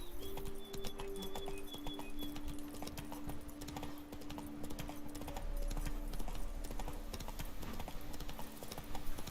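Hooves of Roach, the horse in the video game The Witcher 3: Blood and Wine, clip-clop in a steady galloping rhythm throughout, with game ambience and bird calls around it.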